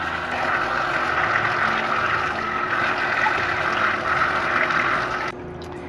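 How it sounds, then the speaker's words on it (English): Running water streams steadily over a tumbler being rinsed off, a loud continuous splashing rush close by that cuts off abruptly near the end. "Rinse everything off."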